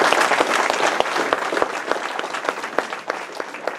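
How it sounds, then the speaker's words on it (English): A gathering at a sheriff's presentation applauds jail dispatchers, a brisk, close round of clapping with sharp individual claps standing out as it gradually thins. "Give them a round of applause"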